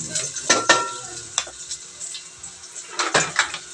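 Onions sautéing in a pan, with soft sizzling under repeated scraping and stirring strokes, a few sharp clatters near the start and again toward the end, no talk.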